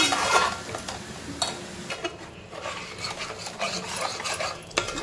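Masala spices frying in oil in a pan, a soft continuous sizzle under frequent scraping and rubbing stir strokes of a spoon against metal, close and irregular, with no voices.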